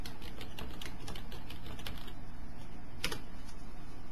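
Rapid keystrokes on a computer keyboard while entering a command in map-building software, a quiet, fairly even clatter of clicks over steady background hiss, with one sharper tap near the end.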